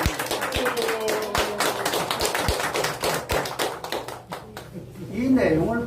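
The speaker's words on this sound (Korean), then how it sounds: "여러분 정말 진심으로 이 두 분께 큰 박수 부탁드립니다" Audience applause at a Korean book-launch concert for a poetry recitation textbook: dense, loud clapping fills the room, thinning out near the end as a voice begins speaking over it.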